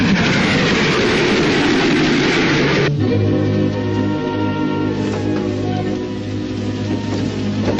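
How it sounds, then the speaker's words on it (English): Steady low rumble and rhythmic rattle of a train running in an old black-and-white mystery film, a continuous rolling drone with a shift in tone partway through, with no one talking. "Oh, it's one of those indoor soundstage trains."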